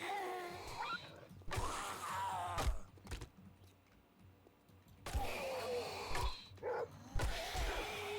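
A dog in the game 7 Days to Die barks several times in short, sharp bursts spread across the moment, against low rumbling game ambience and other sounds, with a quieter gap partway through.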